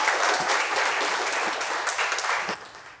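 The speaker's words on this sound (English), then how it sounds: "Clap a little louder for these guys" A crowd at a spring fiesta and school reunion claps loudly and steadily for a short burst, and the applause tapers off at the end.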